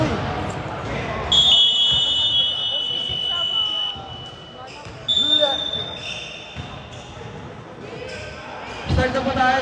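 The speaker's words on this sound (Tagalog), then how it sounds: "Game buzzer boy." Loud electronic buzzers sound repeatedly in a casual pickup basketball game, long steady tones over constant chatter, shouting and bouncing balls.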